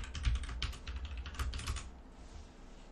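Quiet, quick clicking of keys on a computer keyboard as a password is typed, a short burst of soft taps that fades out after about two seconds.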